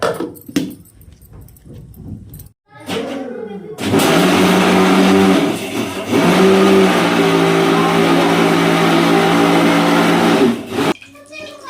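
A mixer grinder grinding tomatoes and cashews roars loudly for several seconds, a steady harsh whirring that stops and restarts, with brief clattering and a voice before it begins.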